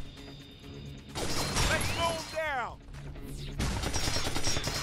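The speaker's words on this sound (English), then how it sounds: "Shooting them in the legs, I mean." Gunfire in the Binary Domain video game as enemies are shot in the legs: sharp, loud bursts of shots with metallic mechanical clatter and ricochet-like whines, mixed with a speaking voice.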